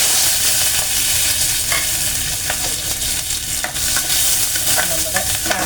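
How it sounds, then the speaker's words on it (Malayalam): Mustard seeds frying in hot oil in a pan, a steady close sizzle running throughout with small crackles and pops scattered over it, alone with no voices. "നമ്മുടെ കറക്കിയ കടുക് വറക്കാം"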